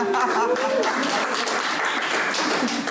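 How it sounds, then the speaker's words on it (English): A lecture audience at a talk on the Bible cheers and applauds on cue, a dense continuous wash of clapping and voices that stays loud and steady throughout. "Let's wake you all up by cheering."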